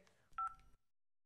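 Cartoon phone keypad tones beep in a quick pair of bright, clean pulses followed by a short low buzz, then silence.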